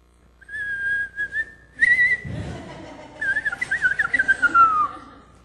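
A person whistles a melody live on stage at a comedy club, with clear sustained tones that rise and fall, a short pause in the middle, then a longer run of quick repeated notes; no talking.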